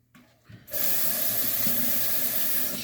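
Tap water gushes steadily into a kitchen sink during dishwashing, starting after a brief clatter and then running loud and constant.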